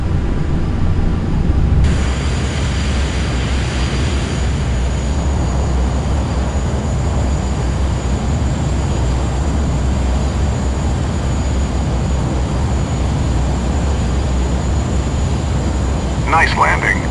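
Jet aircraft in Microsoft Flight Simulator giving a steady, loud, continuous engine roar that runs throughout, with a brief shift near the start and radio-style voices faintly mixed in.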